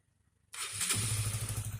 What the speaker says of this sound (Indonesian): hasil akhir daripada perbaikan motor CBR yang saat jalan mati-matian